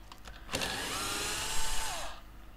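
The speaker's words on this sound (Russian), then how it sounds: "Откручиваем саморез." Power screwdriver backing a self-tapping screw out of a Hyundai Sonata door trim panel: a short whir, then a steady close high-pitched motor whine lasting about a second and a half before it stops.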